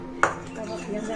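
A metal kadai set out for making ghee gives a single sharp clink as it is handled, with a faint ringing tail over low background noise.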